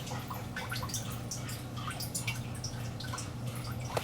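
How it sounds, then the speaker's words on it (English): Water drips steadily into a 5-gallon bucket from a DIY saltwater aquarium top-off reservoir, a quick irregular patter of drops over a constant low hum, fairly close and moderately loud, with no talking. "you could hear the water dripping into the 5-gallon bucket"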